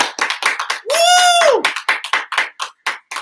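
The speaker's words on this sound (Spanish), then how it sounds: "¿Qué tal si le dan un aplauso fuerte al Rey?" A church congregation claps loudly in a quick, uneven rhythm of sharp hand claps, close and full, with one sustained shouted voice rising over the clapping near the middle.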